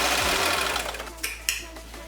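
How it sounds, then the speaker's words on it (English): A sewing machine stitches the second half of a twill corset top with boning, a steady motor hum running throughout with a couple of sharper mechanical clicks near the end, fairly close and moderately loud. "Let me sew the second half and add the boning in."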